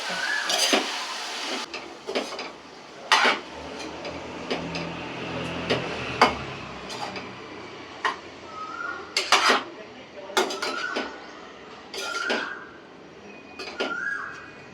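Salt and turmeric are mixed into vegetables in a pan at home before a lid goes on. Sharp metallic clinks and scrapes come in scattered bursts over a faint sizzle, with some talking in between.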